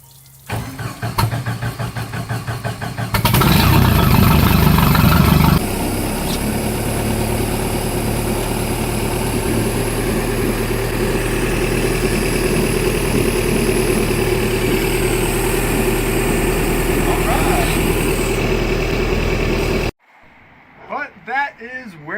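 A restored Bayliner boat engine cranks and fires up in a driveway, revving hard briefly before settling into a steady loud idle that runs until it shuts off, with a voice talking over it.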